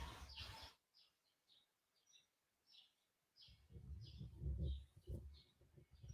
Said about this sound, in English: you hear the birds, y'all